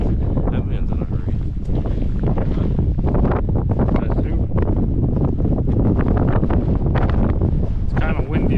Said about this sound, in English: It's kind of windy right here. The wind is intense.